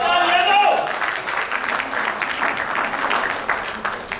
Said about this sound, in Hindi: देख रहे हो तालियों की गड़गड़ाहट।